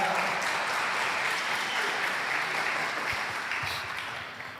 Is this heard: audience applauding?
yes